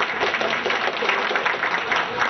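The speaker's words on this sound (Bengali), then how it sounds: "আমরা যারা কিছু দিতে পারছি না তারা করতালি দিই" An audience applauds at a poets' and writers' gathering and book launch ceremony, a steady, dense patter of many hands clapping continuously throughout, moderately loud in a hall.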